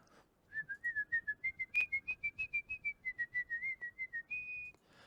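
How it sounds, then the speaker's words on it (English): A person whistles a quick series of short, evenly spaced notes, then holds a final longer note, clear and close with no talking. "while I whistle into the microphone"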